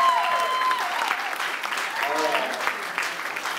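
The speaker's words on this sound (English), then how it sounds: "let's give a round of applause to them" Wedding guests applauding in a reception hall, a steady wash of clapping throughout, with voices and a few cheers mixed in.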